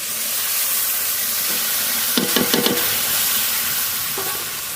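Spice paste and chopped tomato fry and get stirred for a country duck curry: a steady sizzle throughout, with a cluster of louder scraping stirs near the middle and a brief one toward the end.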